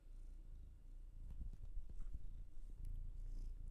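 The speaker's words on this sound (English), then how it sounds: "And he's still purring" A cat purrs steadily up close in a low, continuous rumble while occasionally shifting and moving about, with no talking.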